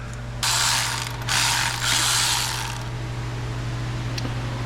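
Ratchet wrench clicking as bolts are snugged down on a 1974 Toyota Celica GT engine, loud close bursts of rapid pawl clicks in three quick runs over a steady low hum.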